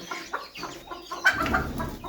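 A broody hen in a backyard chicken coop clucks in a short series of close, uneven calls as the coop is opened, with a sharper, louder cluck near the middle and a busier rustling patch after it.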